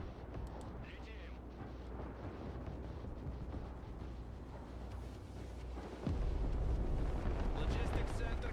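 Explosions in the real-time strategy video game Broken Arrow, during a mission at a power plant: a continuous heavy rumble of blasts that swells louder and denser in the final couple of seconds, with no talk over it.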